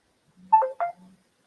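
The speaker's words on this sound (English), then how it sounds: "There goes my phone." Mobile phone gives a short electronic alert: two bright, close tone bursts over a faint low hum, heard alone in a quiet room and lasting about a second.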